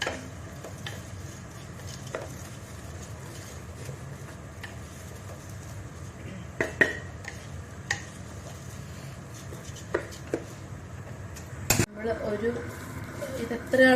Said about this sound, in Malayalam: റൈസ് നന്നായിട്ട് നമ്മൾ ഇളകി നെയ്യിൽ നന്നായിട്ട് ഒരു ചുമക്കണ വരെ നമ്മൾ ഇളക്കി കൊടുക്കാം